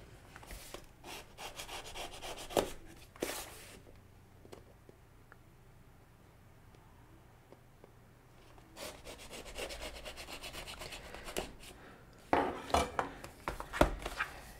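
A knife slices and scrapes through the cardboard of a Samsung Galaxy A06 phone box in rough bursts, separated by a quieter stretch, with close scratchy rubbing and tearing textures.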